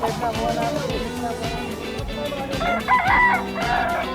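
A sweater gamefowl rooster crows at a busy Bocaue pet market, a loud, close call rising over market chatter and other birds, with people talking nearby.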